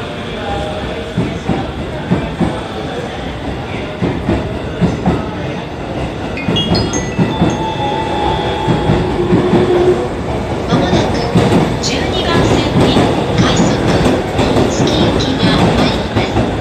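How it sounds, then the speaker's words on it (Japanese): An out-of-service E257 series express train departs Shinjuku station, its wheels clattering and rumbling steadily nearby for a long stretch while platform ambience continues around it. "線から回送列車が発車いたします。"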